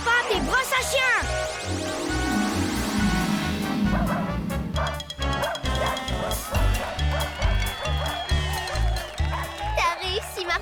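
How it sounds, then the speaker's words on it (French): A cartoon dog sings in yelping, barking tones alongside a voice, set over a bouncy, rhythmic musical backing that runs throughout, loud and close. "Voici Culbuto et son chien qui chantent."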